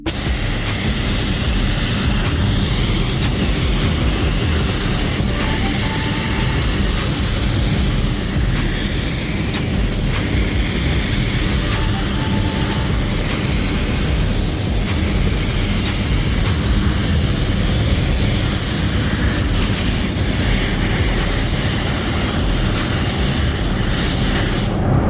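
A steady, loud hiss of a spray gun painting base coat on a BMW F31 328i M Sport car runs unbroken throughout, broadband and even, with no voices over it.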